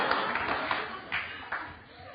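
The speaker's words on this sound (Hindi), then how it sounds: "कितनी तालियां पड़ी देखिए" Studio audience on a television courtroom-style talk show applauding a film star's remark, a continuous crowd clapping sound at moderate loudness, with a few louder surges late on.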